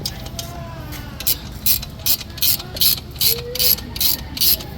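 Ratcheting wrench tightening a motorcycle chain adjuster, a close series of about ten evenly spaced sharp clicks, each burst a quick metallic rattle, over a low background hum.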